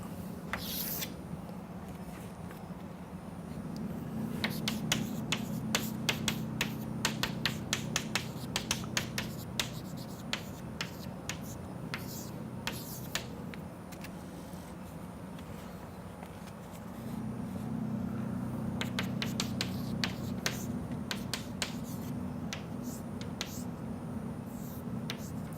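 Chalk or pen tapping and scratching in quick bursts as equations are written during a lecture, crisp clicks repeating over a steady low hum of the room.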